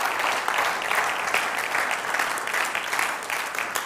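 An audience breaks into clapping, a moderately quiet but continuous spread of many hands with slight swells, heard alone without talk.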